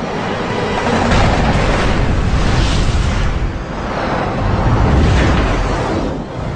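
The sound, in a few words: explosion of a MiG jet fuselage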